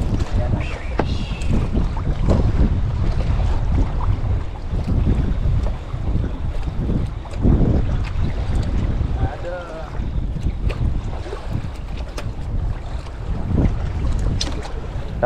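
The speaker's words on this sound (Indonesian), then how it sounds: "Anginnya kencang sekali." Strong wind buffets the microphone on a small fishing boat at sea off a murky beach, a loud continuous roar with gusts and faint background talk.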